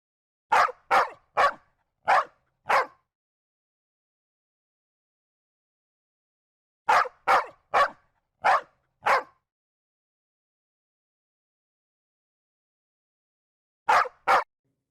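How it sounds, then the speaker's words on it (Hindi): A pet dog barks in three separate bursts of quick, sharp barks, four or five at a time, with long silent pauses between, loud and close against a silent background. "किशन के पास एक पालतू कुत्ता था।"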